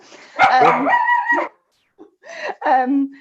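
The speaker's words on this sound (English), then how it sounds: "my dog has spotted something outside the window" A dog barks and yips indoors at something seen through a window, loud bursts in two clusters with a short gap between, close to the microphone.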